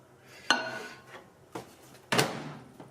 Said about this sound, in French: On met ça au micro-ondes.